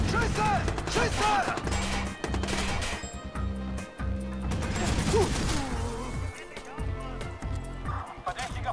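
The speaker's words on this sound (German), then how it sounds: "Schüsse! Schüsse!" Rapid bursts of gunfire rattle over a loud, busy soundscape in the game Watch Dogs, with thumping music and shouted German voices throughout.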